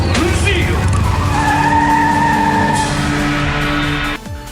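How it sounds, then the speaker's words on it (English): Cars speeding down a highway in a Transformers animated cut scene, a loud close roar with screeching tire squeal and rising engine whine over a driving musical score, cutting off abruptly near the end. "a cut scene from episode 5 where the two are speeding down the highway"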